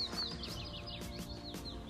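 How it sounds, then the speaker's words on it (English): Birds sing in deciduous woodland at a remote spot, a faint scatter of high chirps and short whistled phrases repeating over a quiet, steady background. "Hear the birds singing."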